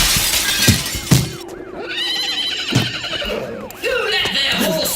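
A comedic sound-effect horse whinnies in a loud, wavering neigh lasting several seconds, mixed with crashing, shattering effects and a voice.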